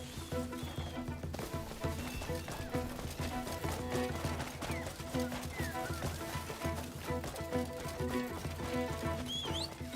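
A horse runs in the Crimson Desert video game, its quick hoofbeats pattering over background game music, with a faint whinny.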